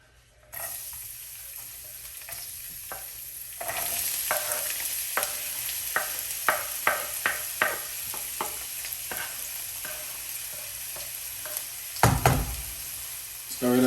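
Chopped onion and garlic sauteing in a pan: a steady soft sizzle with a series of spoon knocks and stirring scrapes against the pan, moderately close and fairly quiet.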